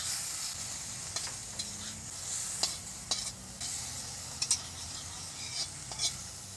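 A few prawns fry gently in a wok with only a little oil, giving a soft, steady sizzle with intermittent spatula taps and scrapes against the metal.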